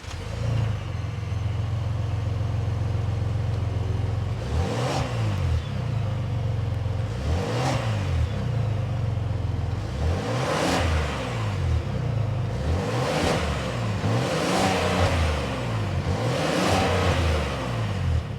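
A Lincoln Navigator's 3.5-liter twin-turbo V6, as fitted to the 2025 model, idles with a steady low rumble and is blipped about six times in a loose rhythm, each rev swelling up and falling back, close and loud.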